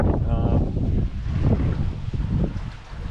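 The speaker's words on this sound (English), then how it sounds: "We've got a nice breeze at the moment, 18 knots actually." Wind blows across the microphone aboard a sailboat in an 18-knot breeze, a continuous close buffeting rush across the whole stretch, with a brief hint of voice near the start.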